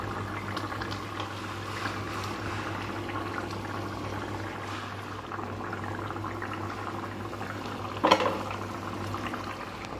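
Water boiling in a pot for fish egg curry, a faint, steady bubbling simmer with a low hum beneath and one brief clatter near the end.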